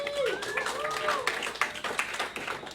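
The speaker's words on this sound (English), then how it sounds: "and a round of applause" Audience applause fills the space for a supporting sponsor at a community event, steady and fairly loud, mixed with scattered cheers and overlapping voices in the crowd.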